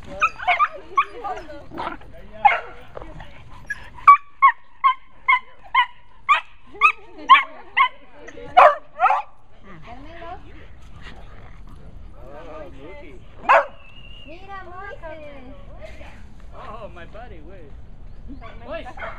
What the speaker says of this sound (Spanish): Carmelo, si no los alcanza y empieza a ladrar.